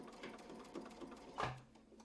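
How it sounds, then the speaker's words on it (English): A sewing machine stitches slowly and steadily across a quilt block, giving a soft continuous mechanical whir with a faint rhythmic pulse, close by and quiet. "we're going to stitch slow and steady across to the other side"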